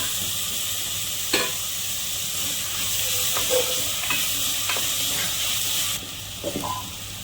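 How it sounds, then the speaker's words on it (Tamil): Ripe tomatoes and spices fry in a pan for biryani, giving a steady loud sizzle with scattered stirring clinks and scrapes throughout. "இதெல்லாம் போட்டு நல்லா விதைக்கிறோம்"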